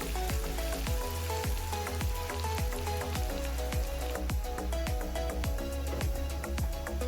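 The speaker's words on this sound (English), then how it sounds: "I will put my cassava just carefully into hot oil and allow it to become brown or golden" Cassava pieces fry in hot oil with a dense, continuous crackling sizzle and many sharp spitting pops, close and loud throughout, with no talking.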